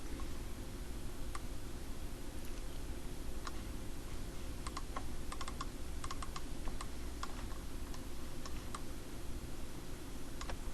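Soft, irregular clicking of keys being typed on a computer keyboard, in short bursts over a steady background hiss.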